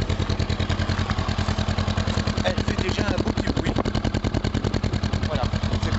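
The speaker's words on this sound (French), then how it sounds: "Je vais quand même mettre en route la bécane." A 2021 Honda CB500X motorcycle engine idles close by with a steady, rapid pulsing thump that stays even throughout, and a faint voice sits underneath.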